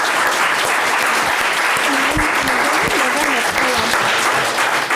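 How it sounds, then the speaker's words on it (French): A crowd applauds steadily for the players of a quiz game while points are tallied, dense and continuous clapping throughout, with a voice briefly rising above it midway. "On va vous applaudir pendant qu'on compte les points"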